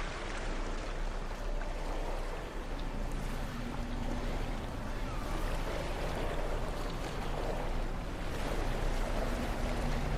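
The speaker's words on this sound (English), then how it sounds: "The water landing is so cool" A spaceship sets down on water in No Man's Sky, giving a steady, loud wash of splashing surf and rushing wind that fills the whole stretch without a break and with no voices.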